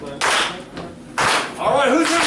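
An audience at a Christmas holiday extravaganza show claps in two short bursts, fairly close, and then a voice starts talking.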